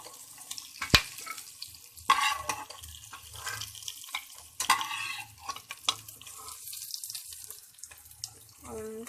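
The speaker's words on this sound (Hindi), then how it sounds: "थोड़ा सा ही फ्राई करना है बस इनको" Capsicum and onions fry in oil in a pan, soft sizzling under intermittent stirring and utensil clatter, fairly quiet, with brief voice-like sounds near the end.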